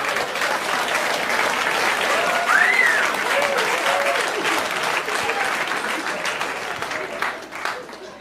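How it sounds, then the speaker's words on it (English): A comedy club audience breaks into sustained, dense applause that carries steadily for several seconds, with scattered voices and whoops mixed into the clapping. "You all just clapped for a dead baby."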